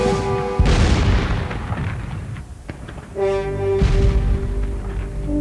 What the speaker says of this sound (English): the explosion took place and blew me backward